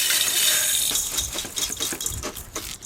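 Cleaned raw rice grains pour into a bowl with a close, rattling hiss that thins into scattered patters and small clicks as the flow ends.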